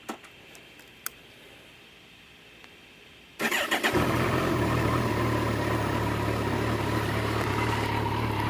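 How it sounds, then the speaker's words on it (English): A 2008 Kawasaki Concours14 motorcycle with an aftermarket exhaust cranks and fires after a few quiet clicks, then settles into a loud, steady idle rumble, up close with no talk. "I'll go ahead and start it up and see what you think."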